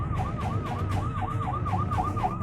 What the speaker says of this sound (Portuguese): A ambulância tá passando.